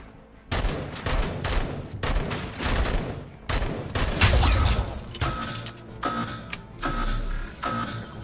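Rapid bursts of gunfire from an upgraded weapon in the video game RoboCop: Rogue City, repeated volleys and booming shots with mechanical clatter, steady and dense throughout.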